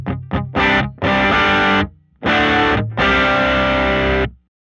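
An electric guitar played through an ODR1 overdrive pedal into a Tonkraf Phoenix amp plays loud, thick distorted chords: several quick stabs, then longer sustained strums with brief gaps, alone without talk.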